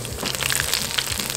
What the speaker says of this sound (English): Ooh, I love a good sizzle.